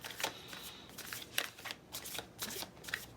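Tarot cards riffle and slap in several quick bursts of shuffling, close and crisp, with short pauses between bursts and no talking.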